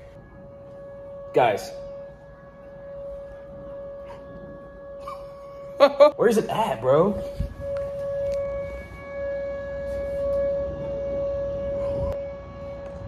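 Tornado sirens wail in the distance during a storm, a steady sustained tone holding through the whole stretch while people talk briefly and bursts of noise and movement break in over it.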